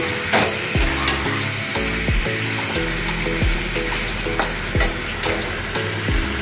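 Dried chilies and whole spices fry in hot oil for a home-style chicken curry, a loud continuous sizzle and crackle with repeated spoon knocks against the pan; no speech.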